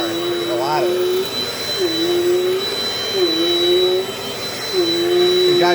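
A Dirt Devil Dynamite Plus vacuum cleaner runs steadily with a loud, continuous motor whine and a high tonal hum, while someone talks over it throughout.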